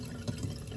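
Water from a Xiaomi 1200G Pro water purifier runs steadily in a continuous low splashing flow, fairly quiet and alone.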